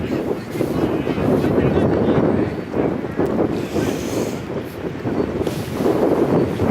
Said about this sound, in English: Wind is blowing toward us.